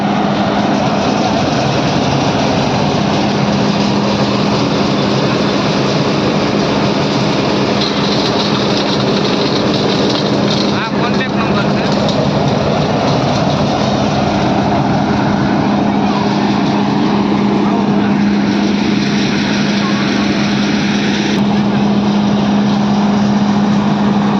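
A tractor-driven peanut cleaning machine runs loud and continuous, with a steady droning engine hum and a dense mechanical rattle that hold throughout without pause.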